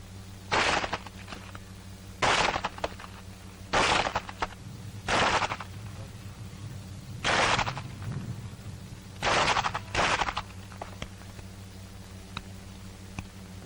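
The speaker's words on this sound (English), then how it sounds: "That is the way you use your pistol in battle firing." Pistol shots fired in close-combat battle practice, 1942: six loud, sharp reports spaced a second or two apart, some in quick pairs, ringing out close against a steady low hum.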